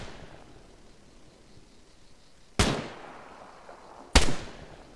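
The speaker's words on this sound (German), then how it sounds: "Boah, wie der Schuss nachhallt durch die Täler hier" Two sharp gunshots in Arma 3, each a loud crack trailing off into a long echo rolling through the valleys, separated by a quiet gap.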